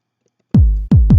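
Three punchy FPC2 electronic kick drum sample hits with deep, falling booms, the first two spaced apart and the third following quickly, loud and dry.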